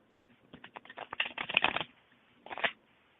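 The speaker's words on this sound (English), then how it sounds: "let me shuffle the cards" Close, crisp riffles of tarot cards being shuffled, a rapid flutter of flicks followed by a second shorter burst.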